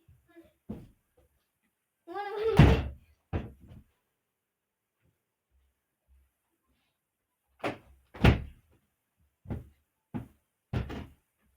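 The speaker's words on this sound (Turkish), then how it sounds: "Arkadaş kapı neden çalıp duruyor?" Hard knocks land on a door indoors, coming in a few separate bursts spread across the stretch with long silent pauses. A voice calls out loudly near the start.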